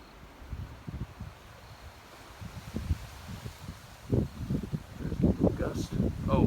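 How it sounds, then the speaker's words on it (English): Gusty wind at the edge of a thunderstorm buffets the microphone in irregular low thumps that grow louder and more frequent over several seconds, with surf-like rushing underneath. "You hear a little bit of wind going out."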